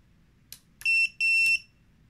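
A few sharp, high-pitched electronic beeps, two of them long and steady, from a small FPV drone buzzer (BetaFPV Beta75X) close by with no talking.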